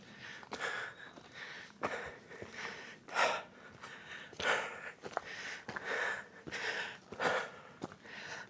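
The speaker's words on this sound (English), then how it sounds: "you hear me breathing" Heavy, labored breathing of a hiker climbing a steep trail toward a summit at Maryland Heights: close, rhythmic gasps and exhales roughly every second, breathy and uneven, with no talking.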